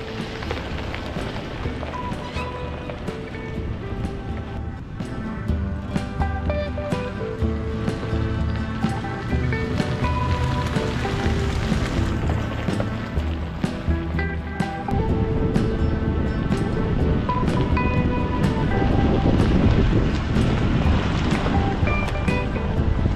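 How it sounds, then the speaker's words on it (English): Strong wind blows on a mountaintop near a campsite, a loud continuous roar with gusty buffeting against the microphone that builds in intensity, with no voices. "It is just too windy."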